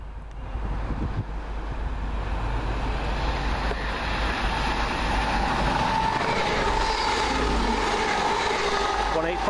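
A train runs steadily through East Didsbury station on the Manchester Airport to York line, a loud continuous rumble of wheels and rail noise sustained throughout, with no clear voices.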